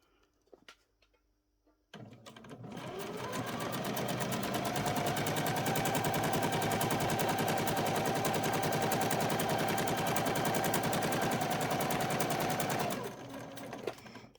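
A sewing machine stitches a doll's school shirt in one long, even run of fast, close needle chatter lasting about eleven seconds. Faint handling sounds come just before it starts, and it stops abruptly at the end.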